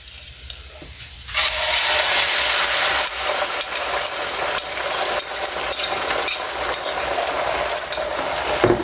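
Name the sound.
egg added and frying in pan with bacon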